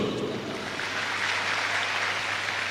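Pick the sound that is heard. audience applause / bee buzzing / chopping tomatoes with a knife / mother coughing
audience applause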